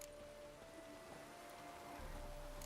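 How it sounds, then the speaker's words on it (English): Soft, steady rainfall in the video game The Witcher 3 on PS5, with a faint constant tone underneath, quiet and even throughout, with no one speaking. "Rain like this would fetch a fortune in Zerrikania."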